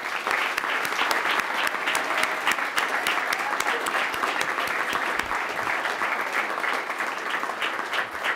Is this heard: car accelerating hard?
no